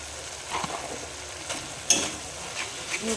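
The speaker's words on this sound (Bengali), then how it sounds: "ভালো করে কষিয়ে নেব মশলাটাকে" Turmeric and red chilli powder masala sautéed in a pan for rui fish curry, a soft sizzle with intermittent spatula scrapes and one sharper clack, close by.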